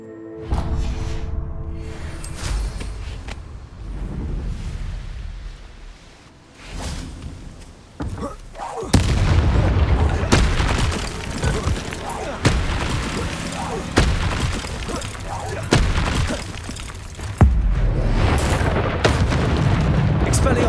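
Explosive spells such as Bombarda and Confringo going off in the video game Hogwarts Legacy, repeated heavy blasts and booms in close succession, with spoken voices between the explosions.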